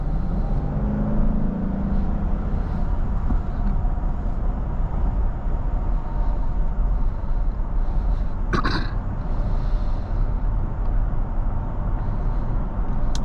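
A 2019 Infiniti QX80 Luxe with a 7-speed automatic cruises along, its steady low engine and road rumble filling the cabin, with one brief sharp click partway through.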